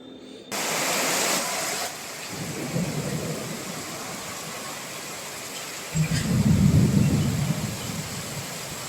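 Heavy rain pours steadily over a city, with thunder rumbling low and broad in two swells, one early and a stronger, longer roll later.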